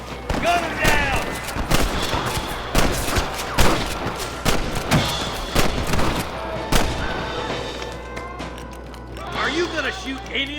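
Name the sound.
gunfire shooting rustlers in Red Dead Redemption video game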